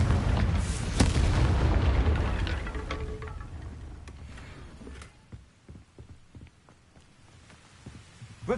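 A Confringo blasting spell in the video game Hogwarts Legacy, a deep booming explosion that rolls out loudly and slowly fades, leaving faint scattered creaks and clicks.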